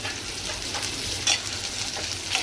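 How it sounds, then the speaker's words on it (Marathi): Onion and green chili fry in a pan for a wild vegetable bhaji, producing a dense, even sizzle up close with a couple of brief stirring scrapes and no speech. "आता कांदा मिरची होऊन द्या, त्याच्यानंतर लसूण आणि टमाटर टाकू आपण."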